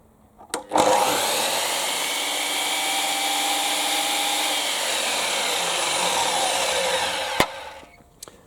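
A DeWalt DWS780 miter saw starts with a jolt and spins up to a loud, steady high-pitched whine that holds for about six seconds while cutting wood, then cuts off with a sharp clunk.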